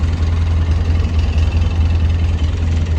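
A Polaris Ranger 6x6 UTV engine runs steadily with a low, throbbing idle and a faint knocking pulse, close and continuous without any voices.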